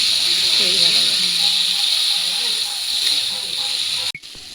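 Water poured into a hot pan of rui fish curry with brinjal, spinach and bori sizzles in a loud, steady broadband hiss for about four seconds, then cuts off abruptly, with faint voices underneath.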